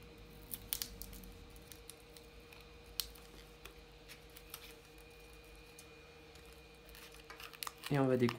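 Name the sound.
cutting phone screen adhesive with a pry tool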